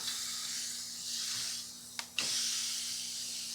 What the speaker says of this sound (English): get that sizzle